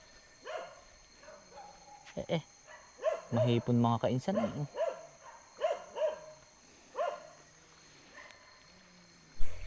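Dogs bark and yip in short repeated bursts at close range, with someone talking over them outdoors on a farm.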